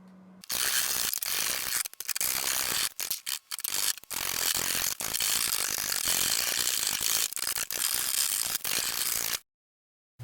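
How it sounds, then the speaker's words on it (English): A clamp cranked tight on a fragile wooden bowl at a workbench, giving a dense, loud ratcheting grind that runs almost continuously with a few brief pauses, then stops abruptly near the end. "Here I'm only lightly clamping the ends for this finishing work."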